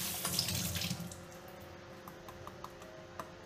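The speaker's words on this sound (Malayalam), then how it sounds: "അങ്ങനെ കൊത്തി ചൊനയെല്ലാം കളഞ്ഞ് അത് കഴുകിക്കളയും." Running tap water splashes steadily as a papaya is washed at a kitchen sink while making papaya thoran, a soft close hiss strongest at the start with a few faint drips and clicks afterward.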